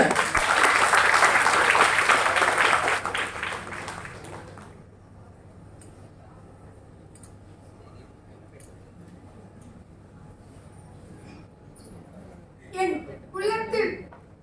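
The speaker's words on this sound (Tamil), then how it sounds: "உங்களுடைய பலத்த கைத்தட்டலோட வராங்க" An audience at a Pongal festival debate applauds loudly for about four seconds, a dense burst of clapping that stops abruptly, followed by quiet room tone and then a voice speaking.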